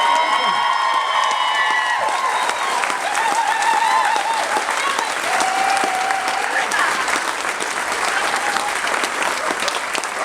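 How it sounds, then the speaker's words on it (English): A crowd at the Badminton Horse Trials applauds and cheers loudly for the top riders, dense sustained clapping with whoops and shouts throughout, while a voice carries faintly beneath the din. "not just applause but huge cheers for Oliver Townend, Austin O'Connor and Cant"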